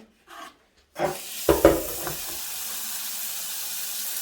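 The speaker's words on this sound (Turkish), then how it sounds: "kullanmamış olduğunuz bir temiz fırçayla patateslerimizi tamamen şöyle yıkıyoruz" Potatoes are scrubbed with a clean brush under a running kitchen tap, a steady stream of water with a few brief rubbing and knocking sounds near the start, fairly quiet and with no talking.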